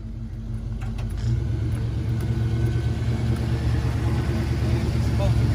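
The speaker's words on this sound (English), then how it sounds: "Them tires burning." A 1979 Chevy Impala box car holds a steady, loud rumbling engine roar during a burnout, tires burning, continuous low drone throughout with a voice talking over it.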